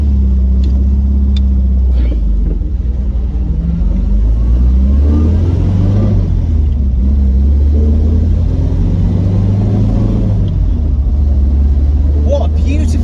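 A classic MGB coupe's engine drones steadily while driving, a low, rumbling mid-pitched hum heard from inside the cabin with gentle rises and falls in revs, continuous for the whole stretch.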